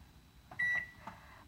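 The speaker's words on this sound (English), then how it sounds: "I do it in the microwave" A microwave oven heating water gives a short, clear electronic beep, then fainter tones fade out against a low hum.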